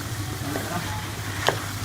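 Chicken and macaroni cook together in a pan, a low steady sizzle with a few scraping stirs and one sharp clink of a utensil near the end.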